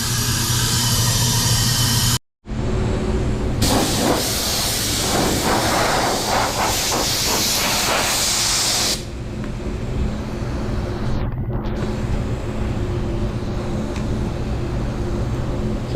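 A paint spray gun fires thinner into a gun wash with a loud, steady, broadband hiss. It stops briefly, resumes, and then drops to a softer, continuous rushing hiss with no talking.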